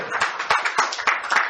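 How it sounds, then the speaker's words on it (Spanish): A church congregation claps in brief applause during a Spanish-language sermon, a short burst of scattered hand claps with faint voices mixed in. "Denle un aplauso al Señor."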